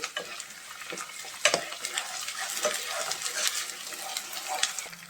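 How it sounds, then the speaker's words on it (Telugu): Ginger garlic paste fries in a pan for gongura chicken, a soft crackling sizzle broken by frequent scraping stirs and light clinks of a spatula against the pan. "ఇలా బాగా ఫ్రై అయిన తర్వాత అల్లం వెల్లుల్లిపాయ పేస్ట్ అయితే వేసుకుంటున్నానండి. ఇది కూడా బాగా ఫ్రై అవ్వాలి."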